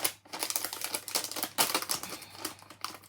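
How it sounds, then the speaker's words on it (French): A plastic bag rips and crackles as it is pulled open, a brief close run of rapid rustling tears and crinkles with short pauses. "Oh, mon beau sac, il s'est déchiré."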